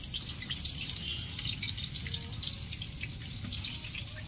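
Water steadily poured and splashing while a dog is bathed outdoors, using rainwater collected in a container; a continuous, fairly soft trickling wash with no voices.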